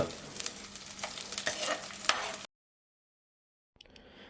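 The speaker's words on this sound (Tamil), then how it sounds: "ஒரு வெங்காயம் போட்டு நல்லா கொஞ்சம் பொன் நிறம் வர அளவுக்கு நல்லா கலந்து விட்டுக்கிட்டே இருங்க" Onions sizzle in hot oil while being stirred with scraping sounds, then everything cuts to silence before faint sizzling returns.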